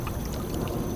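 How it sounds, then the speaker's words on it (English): Water rushes steadily from a pipe beneath a kayak on an overgrown Florida bass-fishing spot during a storm, a faint, continuous close-up gush with no break across the short moment. "There's rushing water under me."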